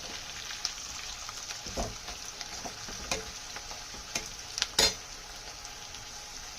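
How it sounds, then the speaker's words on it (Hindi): Green chillies, potatoes and onions fry over a medium flame in a pan, a soft, even sizzle with occasional clinks and scrapes of a spoon stirring, one sharper clatter near the end. "अब मैंने इसका फ्लेम मीडियम पे रखा है और हम अब इसको मीडियम पे फ्राई करेंगे"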